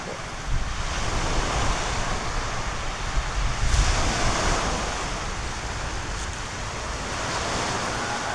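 Ocean waves roll steadily onto a public beach at Fabrica Lobo, Batangas, mixed with strong wind buffeting the microphone, a continuous broadband roar that swells slightly in the middle with no talking.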